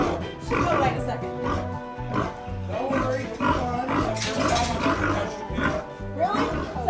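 Pigs on a homestead farm grunting and oinking in repeated rough bursts close by, with people talking over them.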